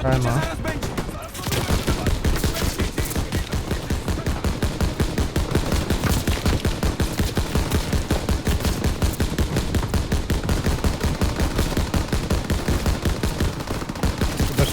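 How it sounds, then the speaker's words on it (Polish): Rapid, continuous bursts of machine gun fire from the WWII shooter game Call of Duty: WWII, during the Ardennes offensive. The shots hammer out at a steady, dense rhythm and stay loud for the whole stretch, with a few other gunshots mixed in. "To jesteśmy cały czas pod strzałem."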